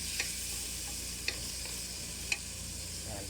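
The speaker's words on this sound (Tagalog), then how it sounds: "igisa natin siya hanggang sa lumambot at talagang madurog siya bago natin ilagay yung manok" Tomatoes stirred and sautéed in a pan for a chicken and bitter melon soup, giving a steady low sizzle with a few light clicks of a utensil against the pan.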